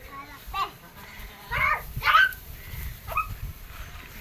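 A goat in a Sindhi village grazing on grass indoors, giving a few short bleats at intervals amid people talking and children's voices nearby.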